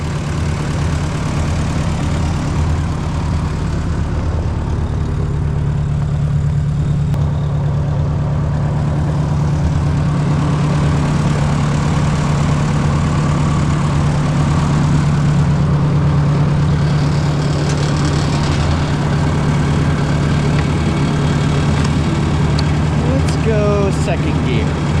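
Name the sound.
Ford 601 series 6 volt tractor engine running in freezing cold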